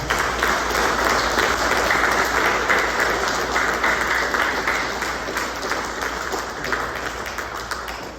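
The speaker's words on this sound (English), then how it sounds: "Let's give her a round of applause." Sustained, dense applause from a high school band concert audience honoring an outstanding freshman, steady and fairly loud throughout, tapering slightly toward the end.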